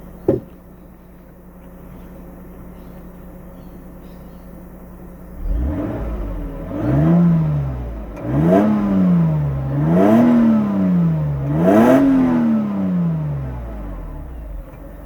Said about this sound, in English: this is the very original, very quiet exhaust